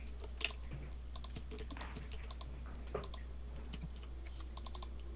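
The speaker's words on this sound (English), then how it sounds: "I'm just typing it in." Typing on a computer keyboard during a building game session, quick irregular clicks of keys tapping in short bursts, close and fairly quiet over a low steady hum.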